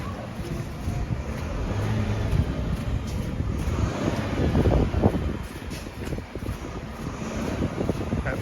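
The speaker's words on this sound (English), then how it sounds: "That bus keeps revving." A city bus engine revs on a downtown Montreal street in February, a low, heavy rumble that swells and fades under steady wind buffeting the microphone.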